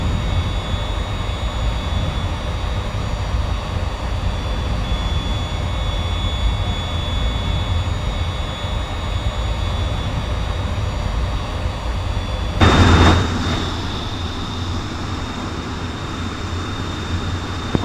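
Steady jet engine roar of an F18 taxiing at Portland airport in a flight simulation game, a continuous loud drone with a brief louder burst near the end.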